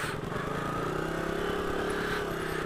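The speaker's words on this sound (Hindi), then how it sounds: "पूरी बाइक स्लिप हो रही है," A motorcycle engine runs steadily at a low, even throb while its rear tyre skids and slips on a snowy mountain road in Spiti, with no talk over the sound.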